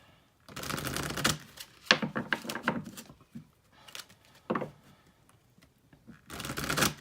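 Tarot cards shuffled and a single card pulled, heard as bursts of crisp papery riffling and flicking separated by short pauses, close and moderately loud with no talking.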